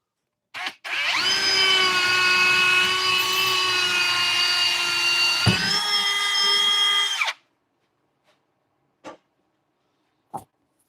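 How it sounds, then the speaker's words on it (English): A loud electric drill whines steadily for several seconds, its pitch dipping slightly mid-run, then stops, followed by a few faint clicks. "I'm going to drill this hole. And this drill is loud."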